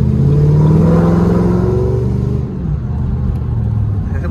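Ford Mustang V8 engine with an exhaust leak in the piping, revving loudly and close, a steady rumbling drone that rises then settles into a rougher idle, with no talk over it.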